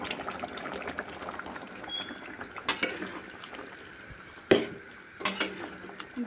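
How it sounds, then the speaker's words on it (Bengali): Fried prawns tipped into a simmering pointed gourd curry and stirred, with a low bubbling sizzle broken by a few sharp clanks of utensil against pot, close up. "ভেজে রাখা চিংড়ি মাছগুলো ঝোলের মধ্যে ঢেলে দিলাম।"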